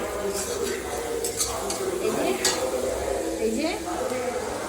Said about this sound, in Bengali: পেঁয়াজ টমেটো আর চিনি লাল লাল করে ভাজছি